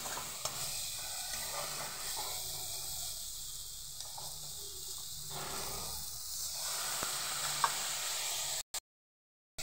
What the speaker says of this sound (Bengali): ভালোভাবে একটু কষিয়ে নেব।